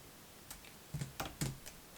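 Several light clicking keystrokes on a computer keyboard, quiet and close, arriving in a short irregular burst with brief pauses between taps.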